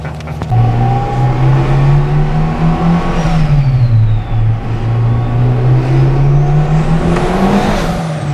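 A turbocharged Honda DC2 Type R engine revs up and down close by, a loud, rising and falling whine and growl over the engine's drone.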